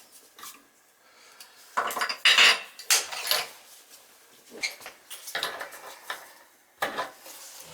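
A Delta sink faucet on an accessible sink being taken apart with the water off: sharp metallic clinks, scrapes and clatters of parts come in irregular close bursts separated by quieter pauses, with no talking.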